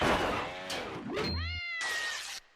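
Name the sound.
cat meowing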